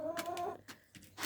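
Backyard hens clucking nearby in a garden, a few short separate clucks and calls with brief gaps between them, the last call louder.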